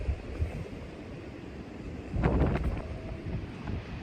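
Wind from a tornado outbreak storm buffets the microphone outdoors, a continuous rough rumble that surges louder about halfway through, with no talking.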